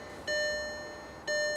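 Two sharp electronic door-open warning tones from a 2002 VW Golf GTI, each a steady high beep that rings out and then repeats once after about a second, with no voices.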